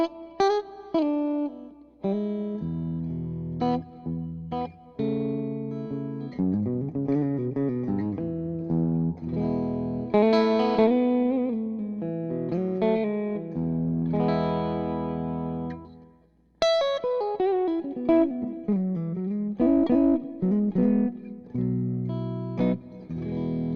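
A PRS SE electric guitar played through an Orange Rockerverb Mark III 50 combo tube amp, with no pedals and light reverb from an EarthQuaker Devices Avalanche Run, ringing chords and melodic lines with a clear, slightly driven tone, close and alone.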